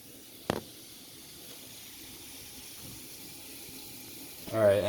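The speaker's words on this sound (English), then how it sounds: "You just drain it in a container like this with a bunch of holes in it." Pasta water draining through a colander into a kitchen sink, a steady soft rushing hiss after a brief clatter, ending with a louder gurgling pour.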